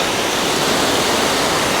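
Bridal Veil Falls near Vancouver pours in a dense, constant roar of falling water, a steady hiss filling the scene with no variation or voices, in a snowy winter setting.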